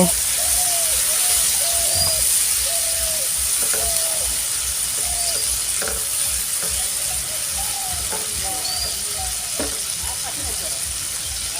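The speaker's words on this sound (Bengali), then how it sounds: "পানি দিয়ে ভালো করে মশলাটাকে আমি কষিয়ে নেব।" Masala spices frying in a pan after water is added for fish-roe and bitter gourd fry, giving a loud, steady sizzle and hiss, with birds chirping repeatedly in the background.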